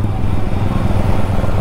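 A new Yamaha R15 V4 motorcycle fitted with a loud exhaust riding on a city road at night, giving a loud, constant low rumble of engine and road noise up close throughout the short stretch.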